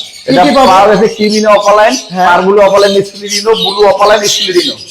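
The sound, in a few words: lovebirds chirping at a lovebird farm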